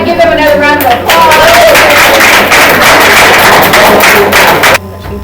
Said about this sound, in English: everybody give them another round of applause